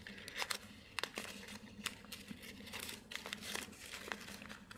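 A sheet of origami paper is folded and pressed into a hexagonal gift box, giving soft crinkling and papery crackles with small taps, quiet and close, running steadily throughout with no voice.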